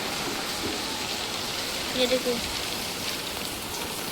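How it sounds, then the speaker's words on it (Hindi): Steady, dense hiss of heavy rain pouring down throughout, with a voice briefly speaking over it midway. "इतनी बारिश आ रही है दोस्तों"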